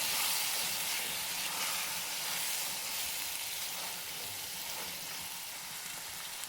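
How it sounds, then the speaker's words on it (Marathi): Tomatoes roast in hot oil with green chili and garlic for chana masala, giving a steady, close sizzle and hiss that holds evenly throughout with no voices. "टोमॅटो टाकायचे, भाजून घ्यायचे टोमॅटो"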